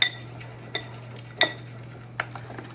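Metal utensil clinks against a bowl while creme brulee custard mixture is stirred without a whisk, four sharp, separate taps spaced about a second apart over a steady low hum.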